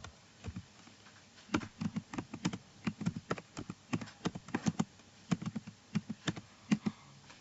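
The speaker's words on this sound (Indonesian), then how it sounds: "Bisa kita ketik dulu." Typing on a computer keyboard, a quick irregular run of close, crisp key taps with brief pauses, alone in a quiet room.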